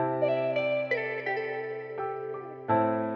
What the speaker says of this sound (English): So now the piano and the guitar together sounds like this.